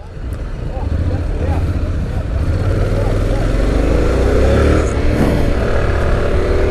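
Honda X-ADV 750 motorcycle engine revving in manual mode, a loud rumbling drone that climbs steadily in pitch while ridden, with a voice talking over it.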